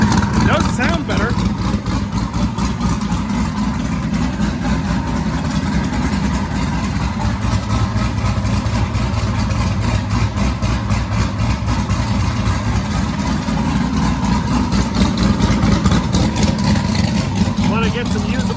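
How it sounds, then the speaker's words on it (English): A big-cam twin-turbo LS V8 idles steadily and loudly up close, a rough, lopey low rumble holding constant throughout with no one speaking over it. "It's still idling at like 70 kPa."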